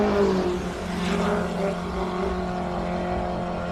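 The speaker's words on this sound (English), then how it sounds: "Oh, sound like missing a whole bunch of gears from Anton Grenier." A hillclimb race car runs a rough, faltering engine note, as if missing gears, with a droning tone that wavers over the whole stretch, heard from some distance.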